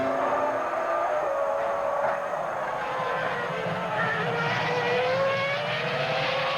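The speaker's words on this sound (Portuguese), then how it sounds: "Você vai de carona, motor Ferrari na Sauber de Nick Heidfeld." Onboard, a Ferrari engine in a Sauber Formula 1 car at the 2002 Malaysian Grand Prix screams at high revs, its pitch shifting through gear changes and rising and falling steadily, loud and unbroken with no talk.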